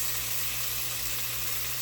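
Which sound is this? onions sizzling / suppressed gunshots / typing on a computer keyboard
onions sizzling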